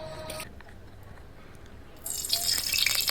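Sardine fish being washed under running water, soft dripping and splashing at first, then a louder gush of running water toward the end.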